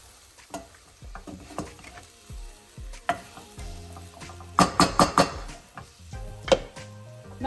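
Dry masalas stirred in a sizzling pan while cooking mutton palak, with a spoon scraping and clacking against the metal in irregular bursts over a low, steady sizzle, and no talking.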